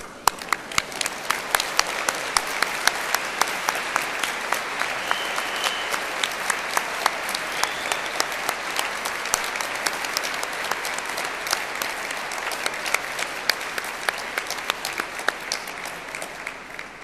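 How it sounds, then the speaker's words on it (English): A large ceremony audience breaks into a long, loud round of applause with cheering, dense clapping sustained throughout with sharp individual claps standing out. "give them a very special and public cheer and a huge round of applause"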